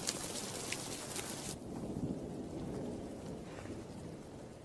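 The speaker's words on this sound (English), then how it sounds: "I got lost and caught in the rain." Heavy rain pours steadily with a rumble of thunder, a dense hiss filling the background at moderate distance with no voices.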